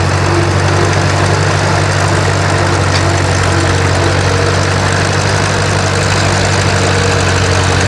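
An antique John Deere tractor engine runs steadily at a plow day in northern Maine, a loud, continuous low chugging with a constant rumble close by and no voices.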